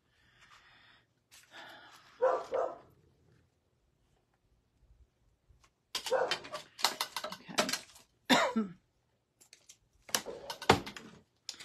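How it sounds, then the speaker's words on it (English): A pet dog barks indoors in a few separate bursts, short sharp clusters of barks with quiet gaps between them, moderately close and with no talk over them. "Of course, my dog's barking."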